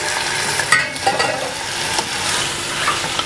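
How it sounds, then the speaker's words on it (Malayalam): Chicken marinated in yogurt with turmeric and salt is stirred into sizzling masala for a coriander and coconut chicken curry. A steady loud frying hiss runs throughout, with a few scraping stirs near the start. "ഒന്ന് നല്ലപോലെ മിക്സ് ചെയ്ത് പിന്നെ വേവിച്ചെടുക്കുക."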